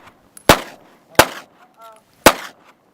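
Rifle shots with full metal jacket rounds fired at a container in the desert: three sharp, loud cracks spaced about a second apart, each with a short echoing tail, and a brief faint sound between the second and third.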